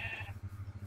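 A sheep in the video game Minecraft gives one short, wavering bleat, close and clear, with a pulsing tremble through the call.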